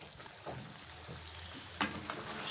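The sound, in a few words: chicken frying and being stirred with spices in a pan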